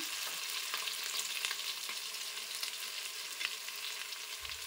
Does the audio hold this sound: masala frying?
yes